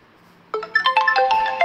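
A phone ringtone starts abruptly after a quiet moment and plays a bright, loud melodic jingle of quick tones.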